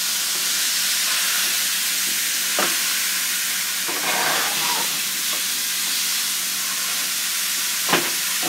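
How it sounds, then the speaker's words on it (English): Ground beef fries in a pan with a steady, moderately loud hiss and sizzle, and a few sharp scraping spoon strokes break through now and then. "I'm going to cook up this ground beef"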